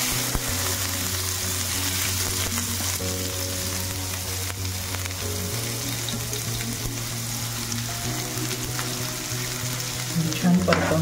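Chopped onion frying in a pan for a stuffed-aubergine bharit, a steady close sizzle with occasional stirring scrapes and a low hum underneath.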